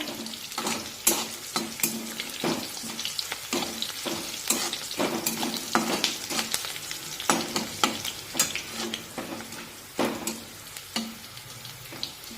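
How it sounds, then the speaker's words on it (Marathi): Slit green chillies sautéing in hot oil, a crackling sizzle broken by frequent irregular scraping and tapping strokes of a spoon against the pan, close and busy throughout. "आता मिरच्या थोड्याशा परतून घेऊया"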